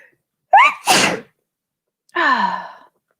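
A sharp sneeze bursts out after a quick breathy intake, followed a moment later by a drawn-out vocal sigh or groan.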